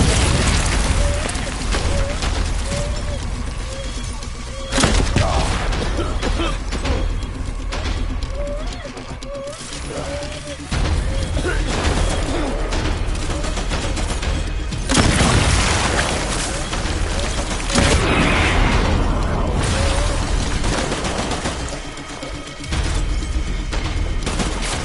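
A PS4 shooter game fills the scene with continuous loud gunfire, repeated booming explosions and mechanical clatter, with voices calling out over the din.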